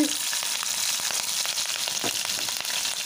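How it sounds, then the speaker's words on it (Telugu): Cumin seeds and green chillies crackle in hot oil for a Goan-style fish thali, a loud, continuous sizzle with scattered pops and a brief stir near the close, with no talking. "ఈ ఆయిల్ని కూడా మంచిగా హీట్ అయిన తర్వాత ఇందులో జీలకర్రని యాడ్ చేసుకోవాలి, పచ్చిమిర్చి"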